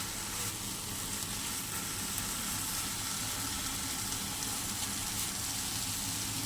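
Raw mango chutney simmering in a pan gives a constant, even sizzle and bubbling hiss, close and unbroken throughout with no voices.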